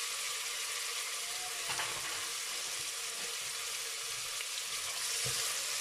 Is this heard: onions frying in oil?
yes